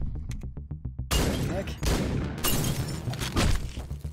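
Gunfire in Hotline Miami, a rapid run of sharp shots followed by loud chaotic bursts and crashes that fill the mix, close and harsh, with a voice talking over parts of it.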